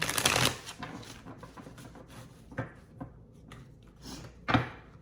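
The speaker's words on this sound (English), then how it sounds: "There's a lot of cards, so my hands have problems handling them all." A large tarot card deck is shuffled by hand, starting with a dense riffle of flicking cards and followed by softer, intermittent slides and taps, fairly close and moderately quiet.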